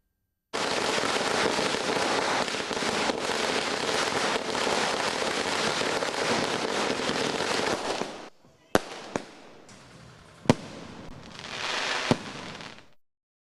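Firecrackers crackling in a dense, continuous loud barrage during Diwali celebrations in Tamil Nadu, followed by a quieter stretch punctuated by a few sharp single bangs and a brief renewed burst of crackling.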